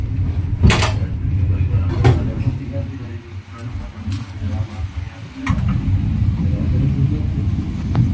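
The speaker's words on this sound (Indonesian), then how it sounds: "tepat pukul 22 lewat 37 menit kereta Cikurai berhenti di stasiun Cibatu" The Cikuray passenger train pulls into Cibatu station at night with a low, continuous rumble. A few sharp metallic clanks and knocks break in early on and again in the middle.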